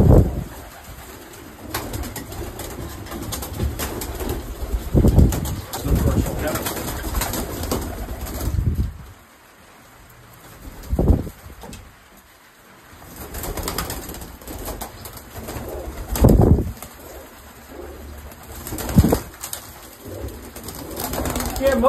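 Tippler pigeons coo softly in low, throaty bursts at intervals, close by in a loft, with occasional rustling and a few voices in the background.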